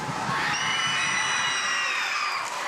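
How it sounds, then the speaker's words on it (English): A crowd at a high school basketball game roars during a player's free throw, a loud, sustained wash of cheering, whoops and high-pitched yelling that swells and carries on without a break. "Lots of crowd noise now for her second."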